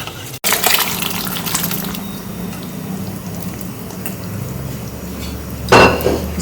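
Cooked vegetables from a pressure cooker go into a pan of pav bhaji masala, with clattering metal utensils, a wet splash and scraping, and a sharp pan knock near the end, with no talk.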